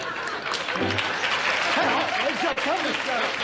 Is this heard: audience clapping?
yes